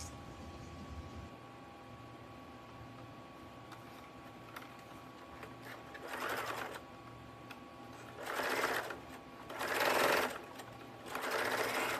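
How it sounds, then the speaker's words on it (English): A sewing machine runs straight top-stitching on a fabric basket in four short bursts of whirring, each a second or so long with quiet pauses between, faint and close against a low background hum. "I'm just going to do a straight top stitch, locking my stitches at the beginning and end."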